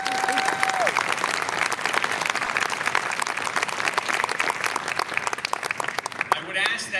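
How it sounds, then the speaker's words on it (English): A room full of attendees at a bar association awards ceremony applauds the honorees, brisk crowded clapping sustained for several seconds at full volume, with a brief tone at the start. "I'd like to recognize all the recipients through a round of applause"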